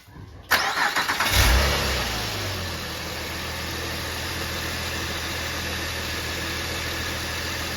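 A 2007 Honda Pilot's engine cranks and catches with a loud burst after a power steering pump replacement, then settles into a steady, low idle rumble that continues to the end.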